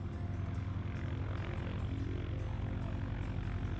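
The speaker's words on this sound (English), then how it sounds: "watch the aeroplanes come and go" A propeller aeroplane at an aerodrome near Goodwood drones with a steady, throbbing engine and propeller beat, moderately distant and continuous, with no other sounds over it.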